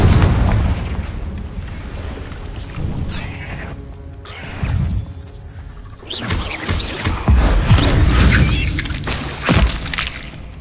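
Repeated Confringo fire spell explosions in the game Hogwarts Legacy: several heavy booms and crashing bursts at irregular intervals over a rumbling background, loud and close.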